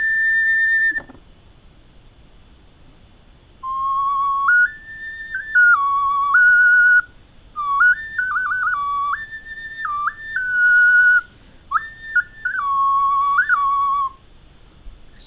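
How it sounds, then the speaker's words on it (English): A clay whistle made for a Peruvian whistling vessel plays a sequence of clear, pure notes, stepping between three pitches in short phrases with brief pauses between them. "the whistle should work for all 3 notes clearly"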